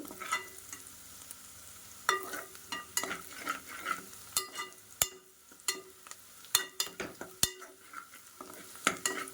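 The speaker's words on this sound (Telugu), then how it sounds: "మనకు ఆనియన్స్ అయితే బాగా వేగాలి" Onions sizzle softly in a pan for a small fish curry, with frequent scraping stir strokes and utensil taps over a quiet, steady frying hiss.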